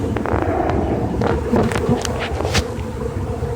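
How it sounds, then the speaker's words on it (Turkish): A honeybee swarm leaving its hive makes a loud, dense, continuous buzz close by, with occasional sharper crackles over the steady drone and no speech. "İlk kol kovanı böyle gider."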